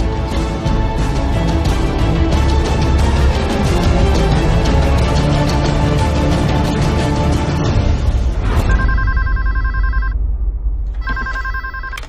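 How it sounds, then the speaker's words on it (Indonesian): A telephone rings in an office, a loud, rapid electronic bell trilling continuously for several seconds, then settling into two shorter repeating tone bursts separated by a pause. "Mbak, ada telepon."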